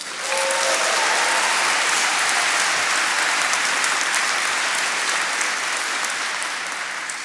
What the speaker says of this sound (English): Let's give them a strong round of applause.